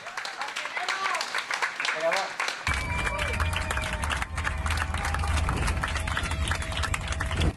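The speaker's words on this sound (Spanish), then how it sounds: "Son aplausos que relajan la tensión de días de incertidumbre en India" Group of people arriving home to India after days of uncertainty, breaking into sustained rhythmic applause that starts abruptly and continues steadily to the end, with faint crowd murmur beneath.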